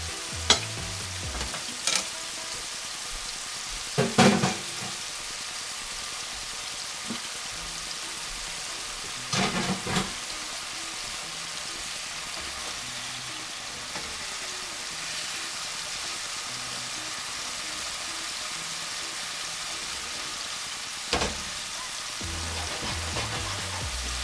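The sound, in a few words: Red Lechwe backstrap steaks searing in oil and butter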